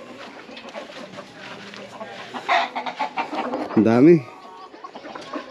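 Native chickens and fighting roosters on a Pampanga farm resort, clucking and calling at close range, with one louder squawk near the end; a person speaks briefly among them.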